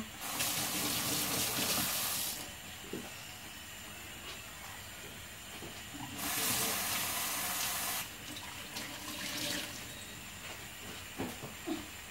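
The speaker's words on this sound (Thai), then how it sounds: "เอาอัน อันเนี้ยไปล้างนะฮ" Tap water runs in two strong gushes while food is washed in a kitchen sink, a steady hiss that stops and restarts, with soft handling clatter in the quieter gaps and no talk.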